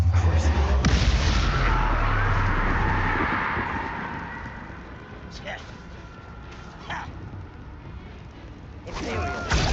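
A Bombarda explosion spell in the Hogwarts Legacy video game: a heavy boom at the start that rumbles and fades over several seconds, followed by scattered smaller impacts and a fresh burst near the end, with a player talking over it.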